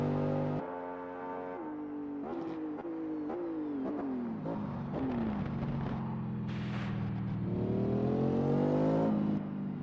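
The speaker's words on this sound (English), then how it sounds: "Listen to the roar of Daniel's car, bringing it back to pit lane." A race car engine in a virtual sportscar racing game at Le Mans roars alone, its pitch rising and falling through repeated gear changes, then settling into a steady, loud drone as the car returns to pit lane.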